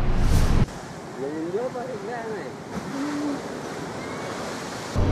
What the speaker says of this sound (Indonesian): Cuaca buruk dan gelombang laut yang menerjang pesisir pantai Pangaliali dan Labuang Majene, Sulawesi Barat, membuat para nelayan tak bisa melaut.